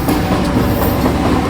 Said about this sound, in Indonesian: Entah kereta apa yang lewat nih.